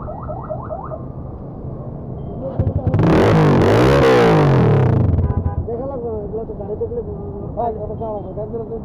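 A motorcycle with its stock exhaust revs up hard for about two seconds, the engine note rising and falling loudly before settling back, with people talking before and after.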